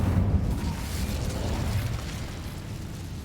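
Fire spell burst in a Harry Potter video game: a steady low rumbling roar with a crackling whoosh, loudest at the start and slowly easing off, with no talking.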